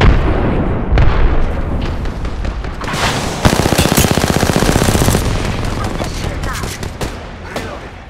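Gunfire in the video game Apex Legends: loud bursts of rapid automatic fire crackle alongside sharp single shots and booming impacts, with speech faintly mixed underneath.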